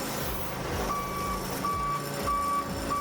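A UTV Achiever RT-02 digger derrick's warning beeper sounds in repeated steady tones over a rumbling truck engine, with the boom raised and the hydraulics deadheaded to force a pressure trip.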